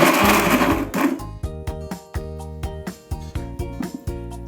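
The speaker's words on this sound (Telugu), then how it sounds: "ఇది కూడా వేసి కొంచెం మరీ మెత్తగా కాకుండా కొంచెం బరబరగా పట్టుకుందామండి మిక్సీ" Mixer grinder pulsing fried onion for a stuffed eggplant curry, a loud whirring motor in short repeated bursts with stops between, the first burst longer and harsher as the onion is chopped coarse.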